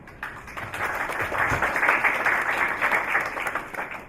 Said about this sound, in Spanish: con fuerte aplauso recibamos entonces al licenciado José Luis Incio